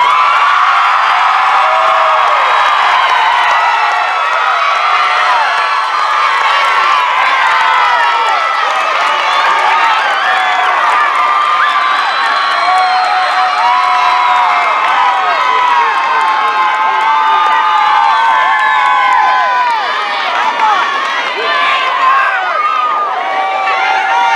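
Graduation audience applauding and cheering for a high school class, steady dense clapping with whoops and shouts throughout, loud and sustained.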